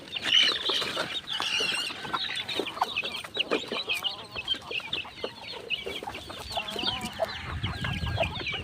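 Young chicks in a pen cluck and peep busily at feeding time, a dense, steady chatter of many birds close by with no talk.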